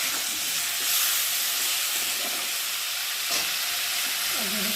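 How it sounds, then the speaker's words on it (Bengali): Aubergine mash mixed with ground ginger, cumin, onion, tomato and green chilli, stirred in a hot pan for begun bharta, giving a steady close sizzle and hiss with soft scraping strokes throughout. "ভালো করে নাড়বো।"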